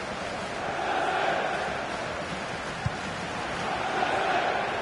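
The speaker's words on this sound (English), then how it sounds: "Well, the crowd urging him." A stadium crowd in the FIFA 18 football video game roars steadily throughout, a dense, continuous wash of cheering, faintly under commentary.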